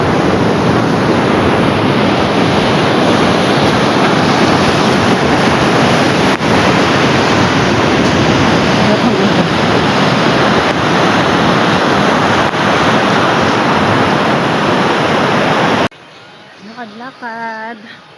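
Ocean surf on Casapsapan Beach in Casiguran, Aurora, roars in a steady, loud wash with wind buffeting the mic, then drops away near the end as a person begins talking.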